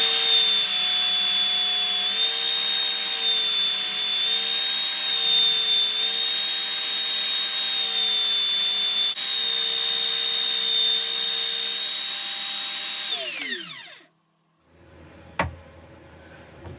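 Power sander giving carved wooden ducks a final sanding, a steady high-pitched whine with a wavering tone that runs continuously, then winds down and stops, followed by a faint knock.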